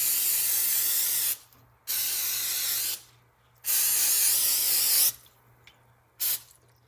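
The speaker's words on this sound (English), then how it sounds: "now we're going to take the spray and spray the other side." Cooking spray hissing from an aerosol can onto raw pork chops being prepared for baking, four separate bursts of steady, close, fairly loud spraying with short pauses between, no talking.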